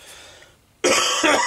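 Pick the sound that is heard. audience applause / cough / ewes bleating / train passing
cough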